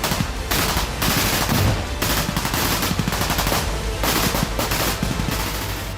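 Heavy gunfire from a Ukrainian army attack on Russian forces crackles in dense, continuous bursts, loud and close, with automatic fire overlapping across the whole stretch.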